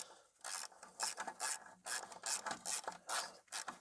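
Allen key working a rusted screw loose from the ABS sensor on a VW T5 Transporter, a series of quiet, close rasping clicks in a quick irregular rhythm.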